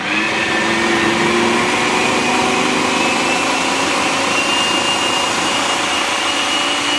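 A food processor blends about twelve dates for a raw vegan cheesecake, a loud steady motor whir with a gritty churning texture that runs without a break and no voices.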